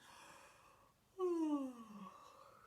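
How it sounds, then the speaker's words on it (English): A single drawn-out yawn from a nearby voice, rising then sliding downward in pitch before trailing off. "Can you yawn? Big Bear must be yawning."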